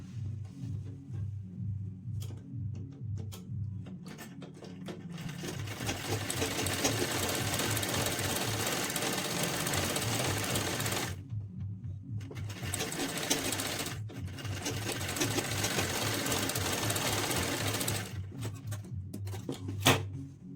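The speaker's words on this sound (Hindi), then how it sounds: "अब इसके नेक को हमें स्टिच कर लेना है।" Sewing machine stitching the neck of a blouse, a rapid mechanical chatter that starts in short bursts, then runs in long continuous stretches broken by brief pauses, close and fairly quiet with no talking.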